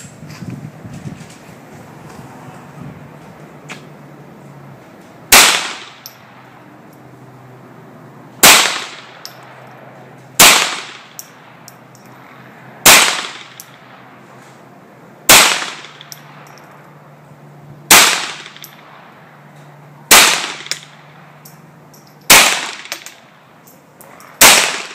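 Colt 1911 Rail Gun .22 LR pistol fired freehand with CCI standard ammunition at an outdoor range: ten sharp, loud single shots, spaced a couple of seconds apart, each followed by a brief ringing decay over a faint steady hum.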